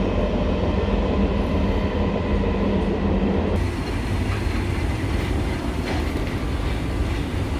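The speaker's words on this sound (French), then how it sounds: "Voilà un métro romain." A Rome metro train rumbles steadily up close, a dense low roar with faint rhythmic clatter of wheels on rails, the tone shifting midway as it moves.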